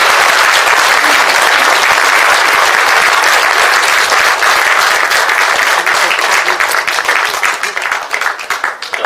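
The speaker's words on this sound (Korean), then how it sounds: "다시 한번 이정빈 교수님께 큰 박수 보내주시기 바랍니다." Loud, dense applause from a large audience at a public national report assembly, sustained and steady, thinning slightly toward the end.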